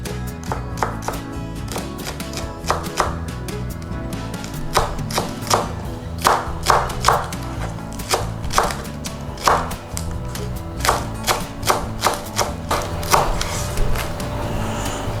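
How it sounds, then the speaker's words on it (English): A knife chops onions into half-centimeter pieces on a board, making a steady, fairly quick series of crisp, close taps with no talking. "take some onions, and we're going to cut this into about 1/2 centimeter pieces."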